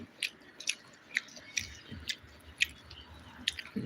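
Close chewing of chicken fry mixed with rice: eight or so soft, wet bites and squishes at a steady pace, with no talking.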